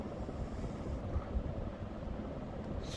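A Hunter Studio Series 42-inch ceiling fan spins at high speed, around 200 RPM, giving a steady, continuous broadband whoosh of moving air that holds an even level throughout.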